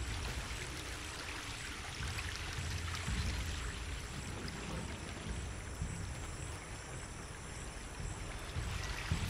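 Foamy water in Shadow of the Tomb Raider flows in a continuous, even rush of fairly quiet splashing that holds steady throughout.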